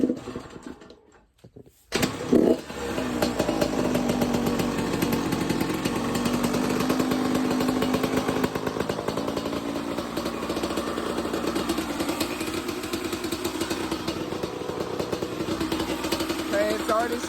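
A 2010 Yamaha YZ85 two-stroke dirt bike kicks to life after a short quiet moment, then runs at a loud, steady, buzzing idle close by, with a voice speaking over the engine.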